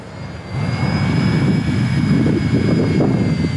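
RC ERA C032 UH-1 Huey model helicopter flying outdoors in strong wind, a steady close whine with a high motor tone over rushing wind buffeting, continuous throughout.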